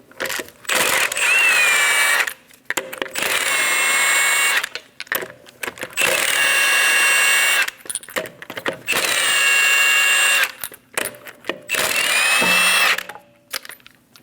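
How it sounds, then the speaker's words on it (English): A power impact tool with a 22mm socket spins the lug nuts off a Dodge Durango front wheel, giving loud, close, whining bursts of about two seconds each, five in a row, separated by short pauses. "Using a 22mm socket, remove all 5 lug nuts."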